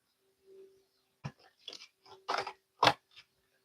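A deck of tarot cards being handled, a few brief dry crunches and crackles in quick irregular bursts, close and quiet amid near silence.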